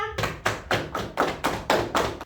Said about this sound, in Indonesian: tepuk tangan dong buat anak-anak semua